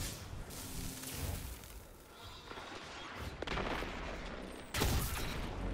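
Sniper rifle shots in an online shooter game, a few sharp booming cracks spread over several seconds against a busy, noisy game mix of effects and ambience.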